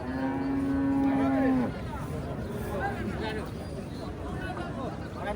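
A cow at a rural cattle market gives one loud, drawn-out moo lasting over a second, followed by a busy background of crowd chatter and market bustle.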